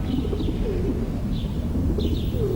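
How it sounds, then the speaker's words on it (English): Feral city pigeons in a London square's gardens coo in low, repeated rolling calls, with a few chirps from other birds and a steady hum of outdoor background noise. "The city's feral pigeon is a product of generations of interbreeding between rock doves, migrants from their home on the coast, and domestic homing pigeons."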